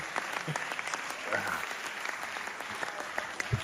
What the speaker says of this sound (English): Can we get a round of applause for Emil O'Neill?